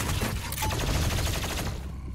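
Rapid gunfire in Doom Eternal inside the Priest's lair, a steady, dense stream of loud shots repeating quickly for about two seconds before cutting off.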